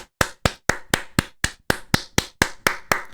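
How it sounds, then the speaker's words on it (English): Hands clapping about a dozen times at a steady, even pace, each clap sharp and close with a short decay, no talking. "As you can hear, I'm clapping."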